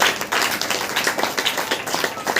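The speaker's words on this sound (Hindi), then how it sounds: "ताली बजा कर," A church congregation at a Hindi-language Saturday prayer meeting claps together in a quick, uneven patter of many hands, close and fairly loud, sustained for a couple of seconds without speech.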